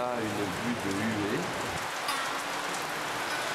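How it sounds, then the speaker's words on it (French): Very heavy rain pours down in Hue, Vietnam, a dense, steady hiss filling the whole stretch at close range, with a voice speaking briefly over it at the start before the downpour continues alone. "sous la pluie, pluie très forte"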